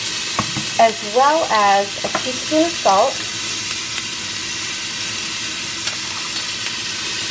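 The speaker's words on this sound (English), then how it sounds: "So I'm going to go ahead and throw in the onions and let them start sauteing" Onions sautéing in oil at the bottom of an Instant Pot, a steady even sizzle with occasional soft stirring clicks; a person speaks briefly near the start, then the frying continues alone.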